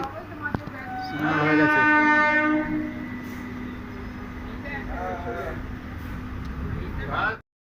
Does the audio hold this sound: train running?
yes